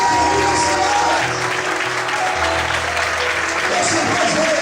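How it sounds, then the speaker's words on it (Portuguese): A church congregation applauds during a sermon, loud dense clapping filling the space continuously, with faint voices mixed beneath. "Quantos podem aplaudir e glorificar a nossa voz?"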